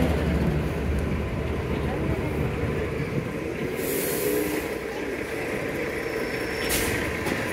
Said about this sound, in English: at the bus stop, and the bus just rocked up